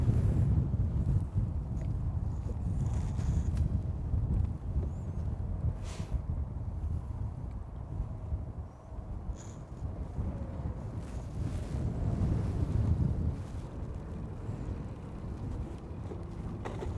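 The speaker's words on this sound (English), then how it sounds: "Wind is picking up a little bit." Steady wind buffeting the microphone on a boat on a river during a December pike fishing trip, a continuous low roar with gusts, close and loud, no talking.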